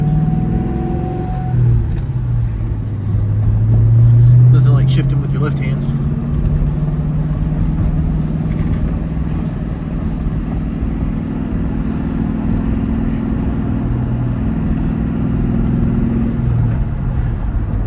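Low, steady engine drone of a Ford Mustang Bullitt while driving, rising briefly as it shifts and then cruising in third gear, loud and continuous with occasional faint rattles.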